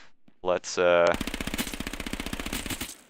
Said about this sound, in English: So SMG, the Hellfire 4-6 is the newest weapon coming to H1Z1 King of the Kill.